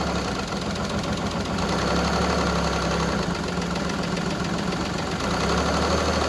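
Evinrude E-Tec 90 outboard engine running rough with injector one disabled, a steady close mechanical drone with a low uneven knock and vibration throughout, no talking.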